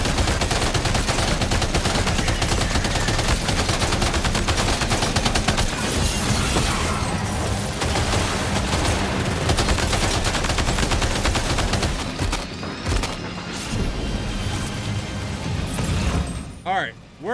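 Sustained automatic gunfire from a weapon in the video game Death Stranding 2 rattles loudly and continuously, with rapid bursts dominating the mix before thinning into scattered shots and brief pauses near the end.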